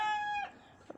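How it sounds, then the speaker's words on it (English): A barnyard chicken gives a brief, tonal call up close, followed by a couple of faint clucks, in a backyard flock that includes Rhode Island Red, Black Star and Black Jersey Giant hens. "this is my barnyard chickens"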